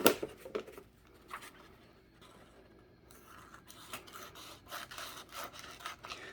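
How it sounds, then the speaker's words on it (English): Paper being cut with scissors, a series of short raspy snips and rustles at close range, uneven in rhythm, with no talking. "use our scissors to cut in half"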